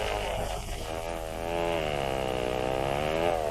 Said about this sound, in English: The chainsaw makes it easier.